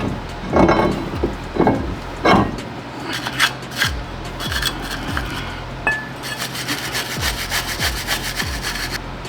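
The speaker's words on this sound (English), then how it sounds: "before you put back the caliper carrier, you have to clean it with a steel brush" A steel brush scrubs a brake caliper carrier in a rhythmic series of rasping strokes, close and loud, each pass a gritty scrape with short pauses between.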